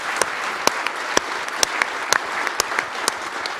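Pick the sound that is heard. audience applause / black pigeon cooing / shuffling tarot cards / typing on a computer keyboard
audience applause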